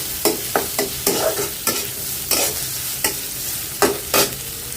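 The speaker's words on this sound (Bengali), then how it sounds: "পেঁয়াজটা একটু হালকা ভাজবো" Onions frying lightly in oil in a pan, a steady soft sizzle broken by regular scraping stirs of a spatula, close and clear with no voices.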